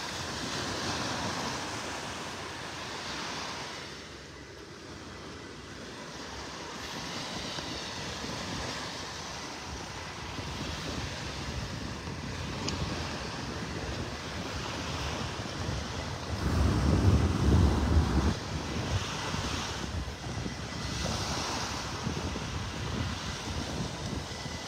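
Surf rolls in on Vanderbilt Beach in North Naples, Florida, with steady wind buffeting the microphone; waves wash in a continuous roar that swells louder near the middle, with no voices.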